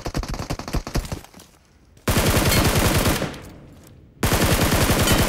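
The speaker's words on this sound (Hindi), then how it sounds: "पीछे से कोई स्कूल से बंदा मुझे फायरिंग कर रहा है" Rapid automatic gunfire in the mobile battle royale game BGMI during an apartment rush, loud bursts of fast repeated shots broken by short quieter gaps, then resuming at full intensity.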